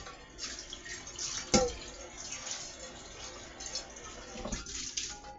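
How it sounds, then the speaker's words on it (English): Water runs from a kitchen tap while steak with mushrooms is being cooked, a continuous moderate hiss with a sharp clunk early on and small splashes throughout. "Sorry about the water."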